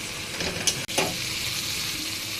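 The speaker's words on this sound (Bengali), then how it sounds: "ভেজে নেব।" Spice paste of garlic, onion and ginger frying in a wok, a steady close sizzle that holds throughout with a brief stir or clatter partway through.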